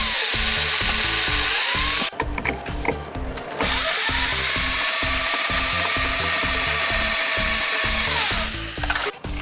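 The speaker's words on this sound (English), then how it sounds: "Get a big drill bit, probably about the size of the rivet head, and go right that in the center" Power drill boring out a rivet on a Mercedes ML W163 door lock, a steady high whine running for two long stretches broken by a short stop, with rattling ratchet-like clicks underneath and no talking.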